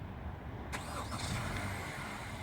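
A 2017 Honda Accord EX-L engine cranks and turns over by remote start, then settles into a steady idle rumble, heard nearby.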